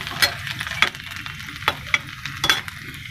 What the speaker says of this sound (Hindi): देखिए तेल हो चुका है, अब मैं इसमें यूज़ करूँगी लहसुन जो मैंने बारीक कट कर रखा था